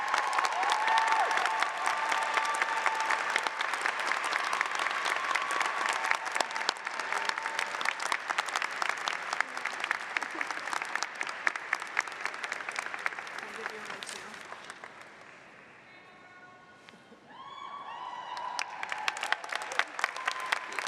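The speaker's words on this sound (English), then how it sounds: "Let's give one more round of applause to all of our awardees" A large indoor audience at a graduate school of education commencement ceremony claps for award recipients in dense sustained applause that fades to near quiet, then rises again as clapping resumes.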